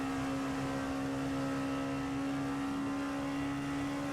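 An LMP2 race car in a racing video game holds a steady, droning engine note at speed with a strong sustained tone and constant road and wind noise, no voices.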